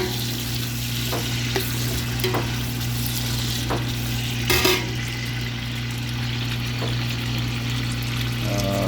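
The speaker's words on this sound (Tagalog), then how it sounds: "Pero gigisa natin." Beef sautéing in a pan for Filipino nilaga gives a loud, steady sizzle throughout, with occasional light scrapes and taps of stirring and a brief louder flare midway.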